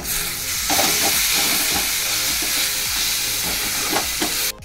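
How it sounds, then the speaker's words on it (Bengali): Spice paste for egg curry cooks down in a pan beside boiled, fried eggs, a close, steady sizzle and hiss broken by repeated scraping stirs, with no voices over it. "এখানে আমার মশলা কষছে"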